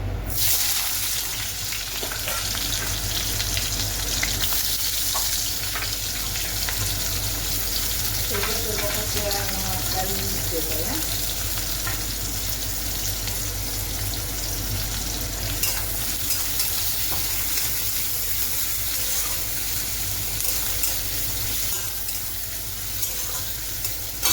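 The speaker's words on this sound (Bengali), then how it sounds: "পেঁয়াজটা ভাজা হোক" Onions sizzle and fry steadily in a pan for a long stretch, with occasional stirring scrapes and brief indistinct voices beneath the constant hiss.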